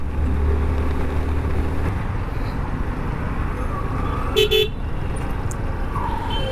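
A jammed city road in Bangladesh heard from a bike, with a steady roar of idling engines and traffic and short car horn toots breaking through midway, a voice faintly present in the din.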